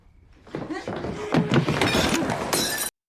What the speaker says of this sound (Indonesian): Dan gelas itu pun pecah